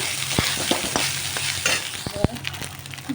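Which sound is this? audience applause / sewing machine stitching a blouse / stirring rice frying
stirring rice frying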